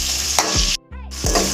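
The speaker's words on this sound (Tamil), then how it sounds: "நல்லா கிண்டிக்கிட்டே இருக்கணும், நல்லா வதங்கணும்." Onions and tomatoes stirred and sautéed in a pan for a village-style brinjal kuzhambu, with a steady close sizzle broken by a few spoon scrapes and one brief dip to near quiet.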